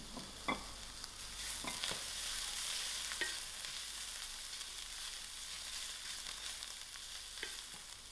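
Garlic and thyme frying with onions in a pot for a creamy mussel hot pot, a steady broadband sizzle running throughout while a spoon scrapes and stirs in a few distinct clicks, close and fairly loud with no talking.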